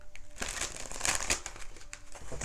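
Soft papery shuffling and crinkling of an Enchanted Maps oracle card deck, a few quick riffles in a row, close and fairly quiet with no talking.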